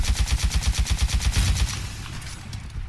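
Rapid burst of SMR Sidewinder rocket fire in Titanfall 2, a fast machine-gun-like stream of loud, evenly spaced launches for about a second and a half, then a fading rumble of explosions and lingering game noise.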